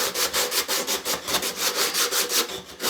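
Hand sanding of a wooden push stick with 120 grit sandpaper, a rhythmic series of quick, close, raspy back-and-forth strokes of about five per second, steady and unbroken with no talking.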